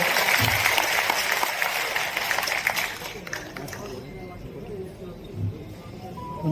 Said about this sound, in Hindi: उसके लिए भी एक बार जोरदार तालियां